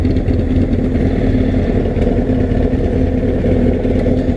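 A motorcycle engine idling close by, a loud steady throbbing rumble with a mechanical clatter and no talk over it; the bike is one used for wheelies.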